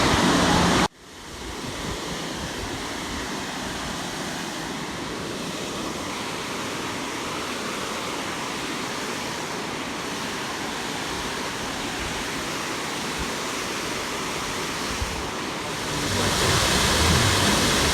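A constant, broad rushing roar of a canyon waterfall, steady and full, cutting in sharply after a brief moment at the start.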